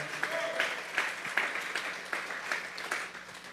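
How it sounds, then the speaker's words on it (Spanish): A church congregation applauds together in a steady, rhythmic clap, the claps falling in a regular beat at moderate volume, with faint voices mixed in. "Vamos a darle esa ofrenda de palmas a Dios en esta hora."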